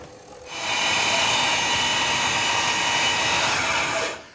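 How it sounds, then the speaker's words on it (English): Trim saw making a tipped scribe cut in poplar: a sustained, loud, high whining buzz of the blade through wood that starts abruptly, holds steady for about three and a half seconds, then stops, with no voices. "By using my trim saw, I can make the scribe cut."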